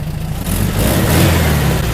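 A rebuilt 40 HP air-cooled Volkswagen engine revs up, starting lower and rising after half a second into a loud, steady, close drone that holds without speech.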